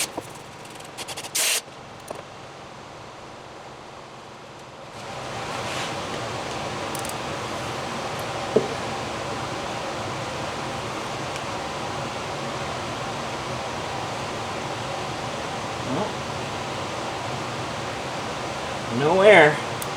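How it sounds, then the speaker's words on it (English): A furnace runs indoors on a very cold day, giving a steady loud broadband rush of air that starts a few seconds in and continues without a break, with a few faint knocks and clatters over it. "Sorry about the furnace noise."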